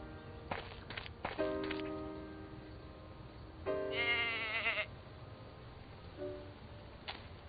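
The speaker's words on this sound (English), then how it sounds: "That goat is a menace." Goat bleats from the video game And Then There Were None, several wavering calls in bursts with a long quavering one in the middle, over light footsteps and background ambience.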